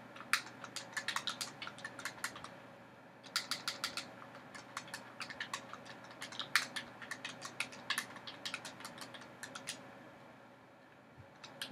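Someone types on a computer keyboard in bursts of quick, close clicking keystrokes, broken by short pauses, over a faint background hum.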